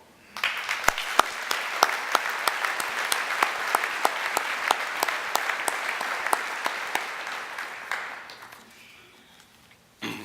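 Audience applause at a county and city state-of-the-county address: sustained, fairly loud clapping with a few sharp, evenly spaced louder claps on top, fading out near the end.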